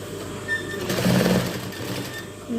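A sewing machine stitching a flower pot design runs with a steady, moderate whirring hum that swells slightly midway and holds without pause.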